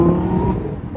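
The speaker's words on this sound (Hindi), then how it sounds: "ओह भाई क्या एग्जॉस्ट लगा हुआ है" A Lamborghini supercar's exhaust rumbles loud and close, a deep sustained engine drone that swells briefly as it revs.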